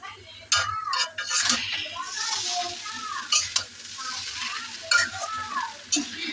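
Chow mein sizzles and fries in a pan while a utensil stirs and scrapes it, with clinks of metal on the pan throughout and a voice briefly heard underneath.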